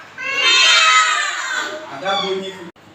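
Children in a classroom imitating a cat, a long drawn-out meow sung together in chorus, loud and close.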